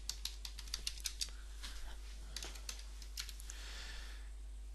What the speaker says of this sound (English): We're going to type in a report file name Pavement ASCON.